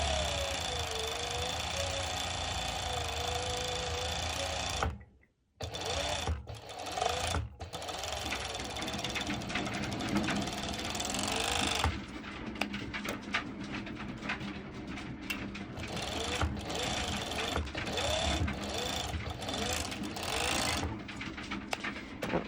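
A sewing machine stitches elastic onto a bikini top in a fast, continuous mechanical whir, pausing briefly before running steadily again close up.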